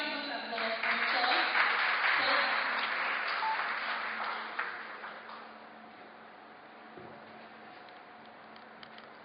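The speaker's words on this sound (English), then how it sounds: "Please give a big round of applause" Audience applause at a medical college continuing-education session on pharmacovigilance, a dense burst of clapping that swells early, then thins and fades over several seconds, with faint room noise beneath.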